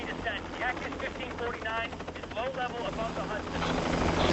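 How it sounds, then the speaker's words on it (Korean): A helicopter's rotor thump and engine whine run steadily under radio-style talk in a film scene, growing slightly louder toward the end. "다행히 한 헬리콥터에서 설리의 비행기를 목격했습니다"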